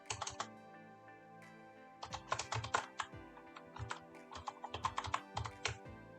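Bursts of computer keyboard typing, with rapid clustered keystrokes and short pauses between bursts, close and clear with no talking, as code is entered in an Android project configuration.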